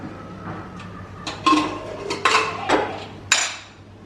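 A cooking pot holding cooked dal (parippu) is opened in a home kitchen, its metal lid clanking and scraping in several sharp knocks over a low steady hum, close by with no talk.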